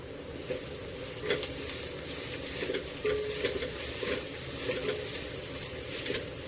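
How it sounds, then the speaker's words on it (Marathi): Garlic cloves and an inch of ginger sauté with browned onions over a high flame for mutton curry, a dense, steady sizzle with repeated scraping stirs of the spoon, close and continuous. "आलं लसूण देखील परतून घेऊया।"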